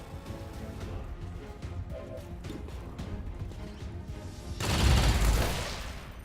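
A ranger's gunfire in Long War 2 plays as a run of quick sharp shots, then a heavy loud burst and crash near the end, with game effects underneath and no speech.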